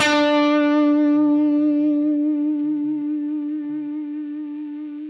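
A single sustained electric guitar note rings out through a Line 6 Helix with hum set to 0, decaying slowly and smoothly with a clean tail and a faint pulsing undertone, with no talking over it.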